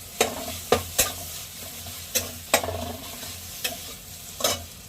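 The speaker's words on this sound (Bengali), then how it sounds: "হলুদ দিয়ে অল্প আছে নেড়ে নেবো, ব্যাস হয়ে যাবে কচু বাটা" Taro paste with turmeric and salt stirred in a pan, a low sizzle beneath a rhythmic series of about eight sharp spatula knocks and scrapes against the pan.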